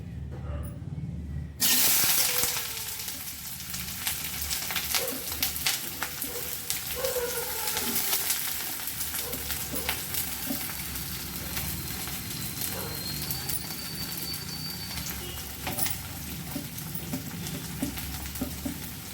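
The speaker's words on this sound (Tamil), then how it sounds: "இப்போ எண்ணெய் காஞ்சிட்டு இப்போ நம்ம வெங்காயத்தை போட்டுப்போம்" Sliced onions go into hot oil in a pan for a spicy brinjal chutney, and a steady, moderate sizzle and crackle carries on throughout, with no talking over it.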